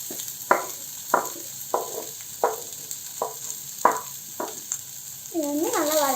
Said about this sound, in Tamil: வதக்கிட்டு இதில் வந்து வெங்காயம் அப்படியே ஆட் பண்ணிக்கலாம்.